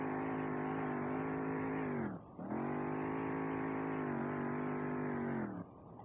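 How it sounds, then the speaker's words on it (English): In SLRR, an SC300 fitted with a giant exhaust holds a loud, steady high rev, drops sharply for a quick shift or clutch flick, then holds again before easing off near the end. "it's got a giant exhaust right now"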